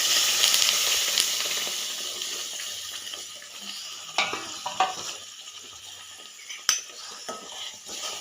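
Ground onion and tomato paste fries in a village-style pan with soft sizzling, and a spoon clinks and scrapes as it is stirred now and then. The sound is close and fairly quiet.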